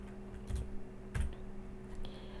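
Quiet keyboard typing on a computer while coding in Visual Studio, a few soft scattered key clicks over a steady low hum.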